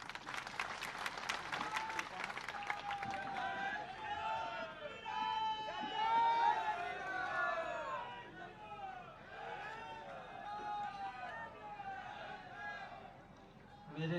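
A crowd at a chief minister's election rally in Chinor, Gwalior, bursts into applause and cheering, mixed with loud crowd voices and hubbub that carry on steadily throughout.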